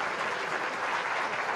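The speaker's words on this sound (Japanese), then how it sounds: "その瞬間サポーターから大きな拍手が沸き起こりました" Home football supporters at a Japanese league match applaud at the final whistle, a dense, steady wash of clapping from a large crowd at moderate distance with no break.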